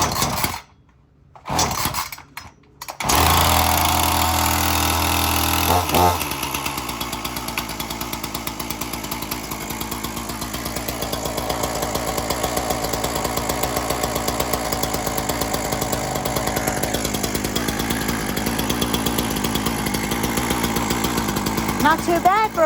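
A chainsaw is cold-started with a few short pulls and a pop before catching, then idles and runs with a steady buzzing rattle that revs up and down slightly, loud and close throughout.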